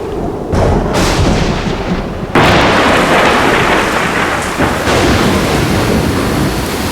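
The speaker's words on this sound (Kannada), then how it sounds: "ಜೋರ್ ಮಳೆ ಬರೋ ತರ ಇದೆಯಪ್ಪ." A heavy thunderstorm with rain pours down steadily, with thunder rumbling loudly throughout and a sudden surge in intensity about a third of the way through. There is no talking.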